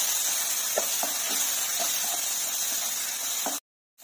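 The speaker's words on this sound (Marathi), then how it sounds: "आता आपल्याला मसाला चांगला तेल सुटताना एकजीव करून घ्यायचा आहे।" Ground spices (coriander powder, garam masala, turmeric, chilli) frying in oil for soybean keema, giving a steady close hiss with faint stirring taps, cut off abruptly near the end.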